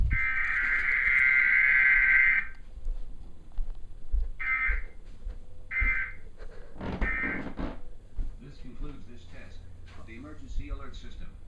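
A weekly Emergency Alert System test on TV opens with a loud, sustained electronic tone of about two seconds. Shorter tone bursts and faint speech follow.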